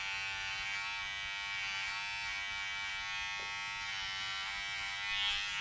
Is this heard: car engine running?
no